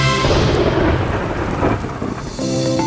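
Heavy rain pours steadily with deep rolling thunder rumbling underneath, a dense continuous downpour that briefly eases near the end before surging back, with no voices.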